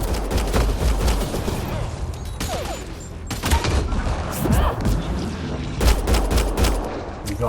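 Dense gunfire in the video game Mass Effect Andromeda, rapid bursts of shots and heavy thumps that come back again and again, loud and close, with voices calling out now and then through the firefight.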